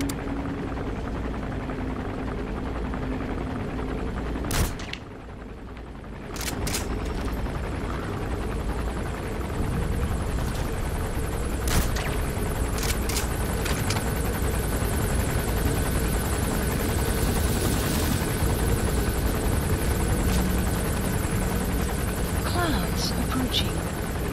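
A helicopter in Metal Gear Solid V: The Phantom Pain drones steadily with a constant rotor hum and buzz under intermittent game noises, while someone talks over it.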